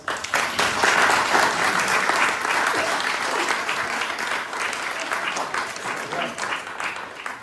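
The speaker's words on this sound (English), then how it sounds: "please join me in giving them a big round of applause" Sustained applause from an audience at a university entrepreneurship showcase, greeting a panel of founders; steady, dense clapping fills the room at full volume throughout, with a few voices faintly underneath.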